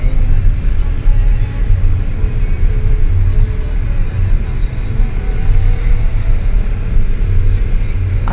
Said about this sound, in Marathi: आता इकडे किती ट्रॅफिक आहे ते बघूया